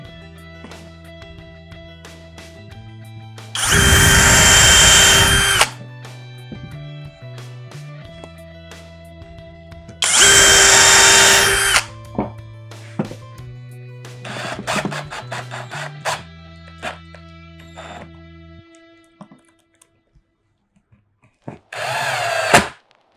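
A power drill pre-drills screw holes in wood for a camera-gear cabinet, with two loud sustained drilling bursts, then shorter rattling bursts and a final brief one, over quiet background music.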